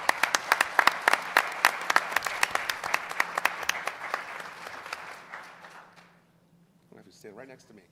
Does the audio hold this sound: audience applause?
yes